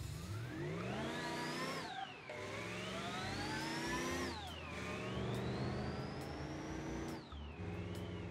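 A simulated diesel engine in the Automation video game revs up and falls back repeatedly in smooth sweeping pitch rises, with no voices.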